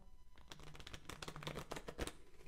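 A worn deck of playing cards is shuffled up close, giving a quiet run of rapid riffling flutters and soft slaps with no talking.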